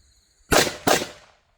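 Two sharp gunshots crack in quick succession at an outdoor shooting training drill, loud and close, each with a brief fading tail and near silence before and after.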